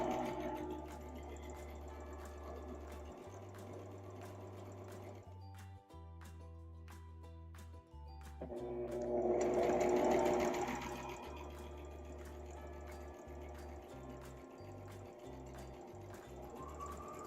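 A sewing machine stitches fabric in steady whirring runs with a couple of brief stops and restarts, heard close up with no talking.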